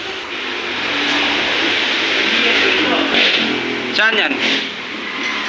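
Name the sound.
motorcycle engine revving with grinding noise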